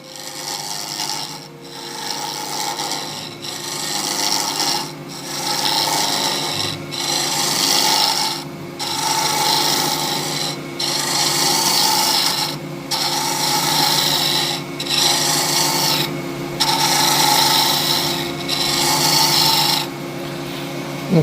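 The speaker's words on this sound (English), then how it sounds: "I'll start to shape that now and take the corners off the blank" A carbide lathe tool cuts a spinning African zebrano wood pen blank, taking off the corners in a rough rasping scrape that repeats in steady strokes, each pass briefly pausing before the next.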